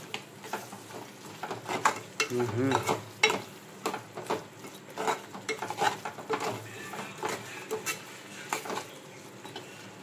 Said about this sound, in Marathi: जरा मिक्स करून घेतो.